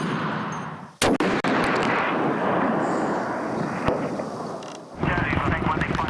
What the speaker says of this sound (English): immediately try to suppress them with heavy machine guns and sniper fire